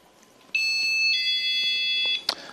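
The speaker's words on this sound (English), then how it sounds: "What I'm going to do is arm it and just test it out to prove it's working." Home alarm system being armed and tested: a loud electronic alarm tone with several steady high pitched components sounds for about a second and a half, then stops, followed by a short beep.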